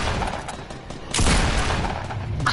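Gunfire in the Fortnite battle royale video game, a dense continuous burst of rapid shots that swells louder midway and keeps going without pause.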